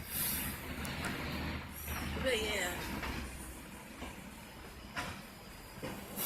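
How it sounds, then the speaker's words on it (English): A garbage truck passes with a low rumble and a sharp hiss like an air brake, while someone talks over it. "Waiting for the trash truck to go by."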